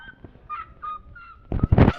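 Several chickens cluck and squawk nearby in short bursts in a park, followed by louder rustling and clucking toward the end.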